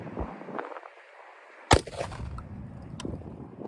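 A single rifle shot of Federal Premium LE .223 55-grain soft-point ammunition from a 20-inch barrel cracks sharply partway through, followed by a short outdoor echo and lower rumbling noise, with no talking.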